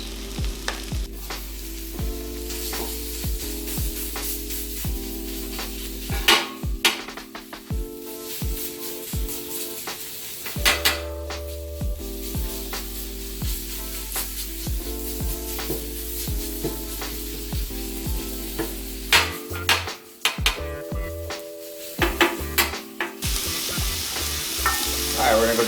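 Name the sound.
sausage sizzling on a 36 inch Blackstone griddle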